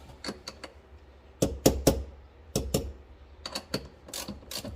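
A hand ratchet tightening a car battery cable nut on its terminal, heard as short bursts of sharp clicking in quick clusters separated by pauses, close and moderately loud with no voices.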